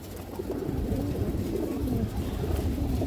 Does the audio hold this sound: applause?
no